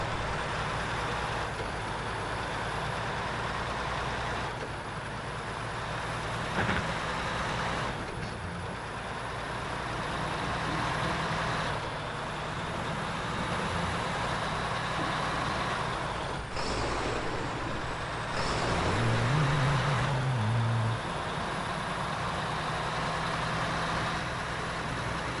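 A logging truck engine in the Snowrunner video game drones steadily and moderately loud for the whole stretch, with a brief hiss like an air brake near the end and no talk over it.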